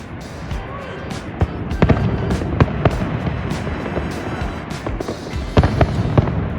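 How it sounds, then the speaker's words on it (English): Fireworks crackle and bang repeatedly at a distance over a Vancouver street, sharp irregular pops over a steady outdoor rumble. "just watched the fireworks from the street."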